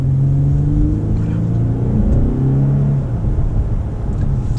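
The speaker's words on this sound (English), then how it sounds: "The engine sound is so loud, which is what I love about this RC." A 2020 Lexus RC350 F-Sport AWD engine drones loudly and steadily, its deep rumble shifting in pitch as it revs and eases off, heard from inside the car.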